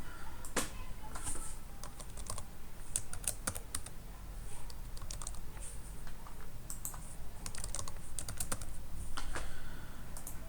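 Steady clicking of a computer keyboard as a password is typed, a continuous run of quick, close keystrokes with no talking.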